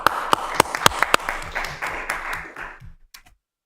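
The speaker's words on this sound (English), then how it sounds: "Get a round of applause for that." Scattered applause at a city council meeting, a handful of sharp, separate claps close by over a thin murmur, thinning out and stopping near the end.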